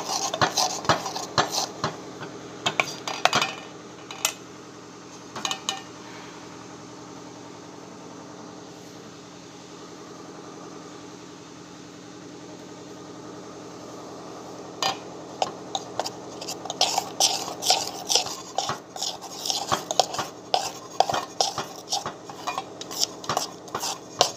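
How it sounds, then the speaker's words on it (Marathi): A spoon stirs rava dhokla batter in one direction in a bowl, with scattered clinks and scrapes that thin out in the middle and grow busier toward the end, over a low steady background hum. "आणि हे चांगलं हलवून घ्यायचे आपल्याला एका डायरेक्शन मध्ये."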